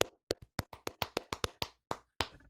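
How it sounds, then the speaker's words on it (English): A small group claps in a short, loose burst of about a dozen sharp, dry hand claps spread over two seconds, close and crisp against silence, during a baseball talk show praising a pitcher. "Clap it up for Zach Wheeler."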